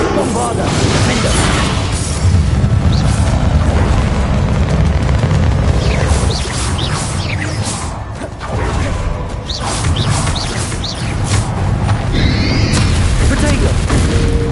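Bombarda explosion spell going off in Hogwarts Legacy, a heavy booming blast within a dense, continuous wash of game combat noise, with a voice talking over the action.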